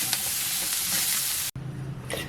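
Paneer frying in a pan, a steady loud sizzle and hiss for over a second, then a brief cut and a quieter sizzle with a stirring scrape, close by and without talking.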